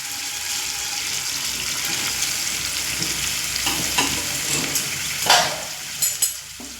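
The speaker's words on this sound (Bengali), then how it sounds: "এবার আমি এখানে দিয়ে দেব আগে থেকে করে রাখা গরম জল" Hot water is poured into a pan of sizzling spice mix for a drumstick (sajne data) curry, a steady broadband hiss and spatter with a sharper surge of bubbling near the end.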